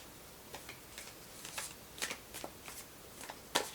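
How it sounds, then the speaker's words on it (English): Tarot cards being shuffled by hand, a series of soft, close riffling bursts in an uneven rhythm, quiet and with no voices. "So I'm going to shuffle one more time."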